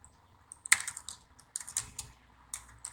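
Typing on a computer keyboard during an HTML lesson, a few sharp separate key clicks including an enter press, close and fairly quiet with no talk.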